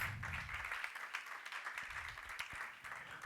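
A church congregation claps during a sermon, a faint, steady patter of many hands heard from a distance, with no voices over it.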